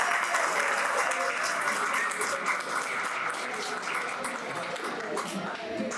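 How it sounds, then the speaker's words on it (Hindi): A crowd applauds steadily after a dance performance at a Republic Day celebration at a defence academy, a sustained, fairly distant wash of clapping with faint voices underneath that eases off slightly toward the end. "तो हो जाए जोरदार तालियां।"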